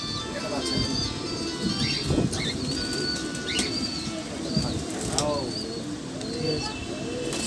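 Pigeons in a loft, with a female pigeon nearby, give off soft coos and scattered bird calls over a busy background of movement and light wing flaps, while someone talks throughout.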